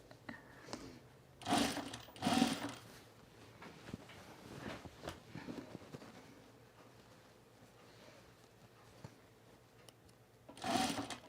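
A sewing machine stitches plaid fabric for a cropped jacket, a faint, quiet whir running in stretches, with louder bursts of talk breaking in near the start and at the end.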